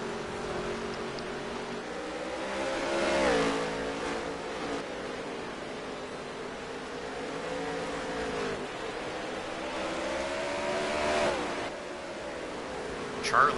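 Dirt race cars battle through the closing laps of a heat race at Las Vegas, a continuous loud engine roar with repeated swelling passes and pitch sweeps, with a voice faintly underneath.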